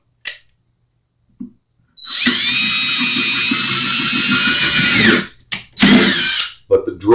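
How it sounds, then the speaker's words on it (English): A power drill on slow speed bores a hole in a Yamaha acoustic guitar while a pickup is being fitted. One close, steady, high whine lasts about three seconds, followed by a few shorter bursts of drilling. "Have your drill on slow and don't give it the full gas."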